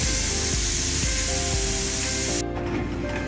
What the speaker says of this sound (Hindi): ये अभी प्रेशर कुकर चलने लगा है।